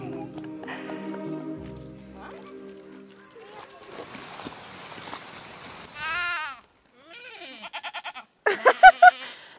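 A person mimics a goat's bleating aboard a sailboat in Africa, giving several wavering, nasal bleats near the end, some short and pulsing, after a stretch of mixed background noise and voices.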